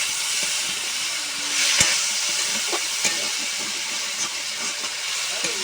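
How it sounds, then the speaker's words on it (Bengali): Fried cauliflower florets stirred in a hot frying pan, a steady bright sizzle and hiss with occasional scraping of the spatula, close and continuous throughout. "কপি তুলে দিলাম, দিয়ে আবার নেড়ে নিচ্ছি ভালো করে"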